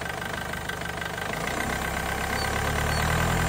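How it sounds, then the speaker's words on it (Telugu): Ford Fiesta Classic 2011 car engine idling close by, then the throttle is pressed and the low hum swells steadily louder over the last two seconds. "ఇప్పుడు మీకు ఒకసారి వెహికల్ స్టార్ట్ చేసి అయితే చూపిస్తాను చూడండి."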